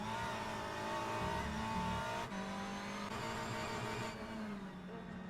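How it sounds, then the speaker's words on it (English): Race car engine sound from a BTCC sim racing league game at Donington Park, steady dense engine drone with shifting pitches and a brief dip, loud and continuous with no talk. "Oh, we just saw Troy Jaslowski revving out"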